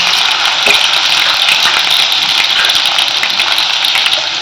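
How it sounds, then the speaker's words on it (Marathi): Crushed garlic dropped into hot oil with cumin and mustard seeds sizzles steadily and loudly, close up, a constant hissing fry with small crackles throughout and no talking. "हे तळलं की आपण लसूण टाकायचा, क्रश केलेला आहे लसूण"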